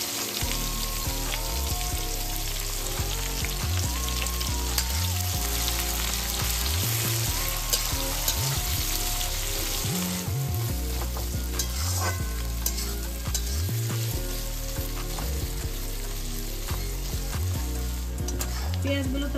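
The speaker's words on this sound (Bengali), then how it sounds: "পেঁয়াজগুলো তাহলে কিরকম ভাজা হয়েছে দেখা যাচ্ছে" Chopped onions fry in hot oil with small cardamom and a pinch of asafoetida, sizzling steadily and loudly up close while a utensil scrapes and stirs the pan in repeated strokes.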